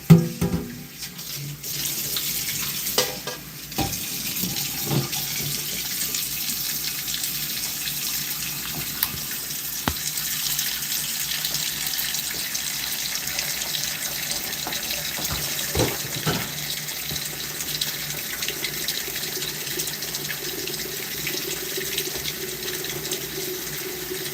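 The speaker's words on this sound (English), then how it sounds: "I'm gonna add the water." Kitchen tap water pouring steadily into a cooking pot for boiling food, a continuous close splashing rush with occasional clinks and knocks, no voices.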